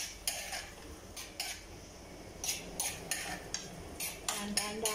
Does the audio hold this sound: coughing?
no